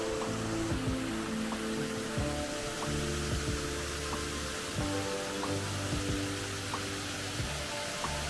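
Small waterfall at Salto Suizo near Independencia, just above its first mini-step where the water drops about two metres; a steady, broadband rushing roar fills the whole stretch, close and continuous.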